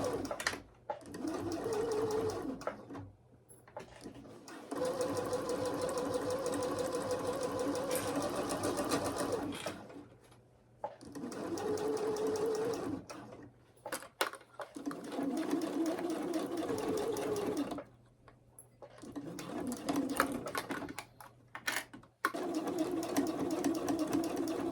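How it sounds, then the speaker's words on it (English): A sewing machine stitches down a Star Trek TNG Riker costume garment in long steady runs of rapid mechanical whirring, broken by short pauses where the needle stops and restarts, close and loud. "I'm just gonna pin the rest of it and then sew that down"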